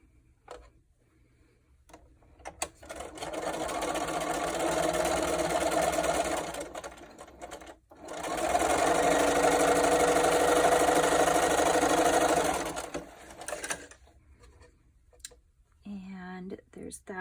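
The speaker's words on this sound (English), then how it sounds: "you're just gonna bring them over like this and sew them right along the edge." Sewing machine stitching quilt block pieces along the edge, running in two steady bursts of several seconds each, close and fairly loud, with short pauses and handling between.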